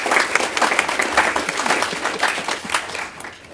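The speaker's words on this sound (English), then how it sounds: "give him a round of applause." Meeting audience applauding an officer, loud close clapping from a room of people that rolls on steadily and then tapers off near the end.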